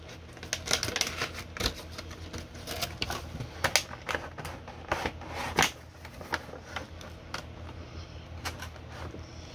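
Packing tape being torn and pulled off a mail package, a run of sharp crackling rips and scratchy snaps of fairly quiet, close handling noise with no talk over it.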